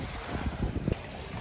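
A boat on the Red Sea at Aqaba, Jordan, gives a low rumble with wind buffeting the microphone, a brief steady stretch with no talking.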